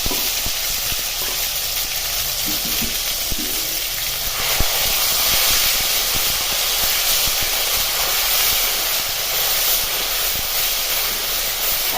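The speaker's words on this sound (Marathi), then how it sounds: "हिरवी मिरची पेस्ट चांगली परतून घ्यायची आहे" A steady, crackling sizzle of paste frying in hot oil, close and continuous for the whole stretch, with no voices.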